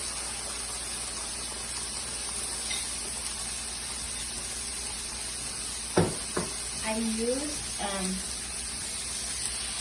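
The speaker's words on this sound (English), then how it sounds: "These are my eggs, and they're going to be fried all the way." Eggs frying in a hot pan, six of them, for a mushroom egg dish: a steady broadband sizzle throughout, with a few sharp clatters near the middle and brief talk over it.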